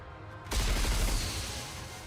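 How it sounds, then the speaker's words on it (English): A video game missile volley strikes concrete blocks, a sudden loud booming explosion with crumbling debris that rumbles and fades over about a second and a half. "A massive volley of missiles launch and score a direct hit. With a resounding explosion, the concrete blocks shatter into a million pieces."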